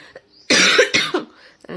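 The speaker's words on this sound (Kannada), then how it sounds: "ಸ್ವಲ್ಪ ಕೆಮ್ಮು ಸ್ಟಾರ್ಟ್ ಆಗಿಬಿಟ್ಟಿದೆ" Two or three harsh, close coughs in quick succession, loud against near silence.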